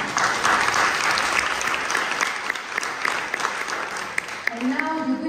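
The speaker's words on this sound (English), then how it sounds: "I think you can applause a little bit to this amazing woman." An audience at a talk on storytelling in The Sandbox metaverse breaks into loud, sustained clapping for a woman, then a voice rises briefly near the end as the applause continues.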